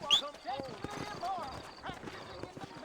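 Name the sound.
horse hooves in video game Red Dead Redemption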